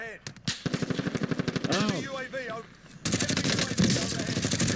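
Automatic gunfire rattles in Call of Duty: Warzone, with rapid bursts of shots, a stretch of sustained firing later on, and a brief exclamation from a player.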